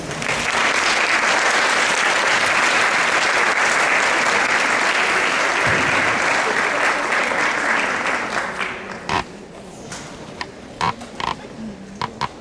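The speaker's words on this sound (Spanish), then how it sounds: "Demos por favor a nuestro invitado de honor un fuerte aplauso." A large audience applauds a guest of honor at an education talk, dense sustained clapping that fills the room for about eight seconds before thinning out to a few scattered claps.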